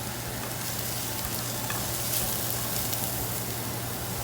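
Garlic and onion frying in olive oil in a saucepan, a continuous dense sizzle with light stirring, steady and close, no talk.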